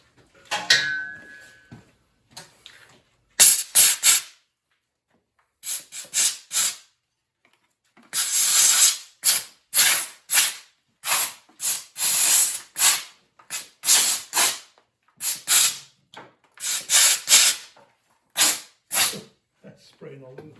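Compressed air blasting dirt off a wrecked 5.7 Hemi engine pulled from a 2005 Jeep Grand Cherokee in a garage, heard as many short, sharp hissing bursts in quick uneven succession, with occasional talk.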